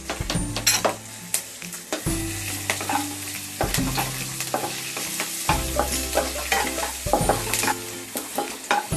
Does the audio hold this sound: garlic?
yes